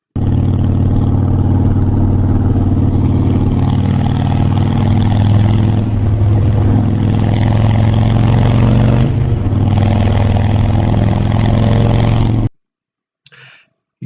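A Harley-Davidson motorcycle engine rumbles loudly and steadily for about twelve seconds, with deep low pulsing and slight swells in tone, then cuts off abruptly into near silence with a faint trailing noise.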